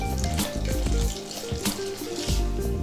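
Close, wet sticky stirring of yeast-free pizza dough with irregular spoon scrapes and thumps against a bowl, no voices.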